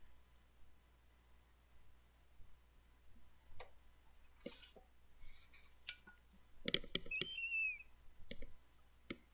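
A turn timer in the Pokemon Showdown battle game gives faint, sparse ticks and clicks at a low level. A brief brighter chirp comes near the end, and no one talks.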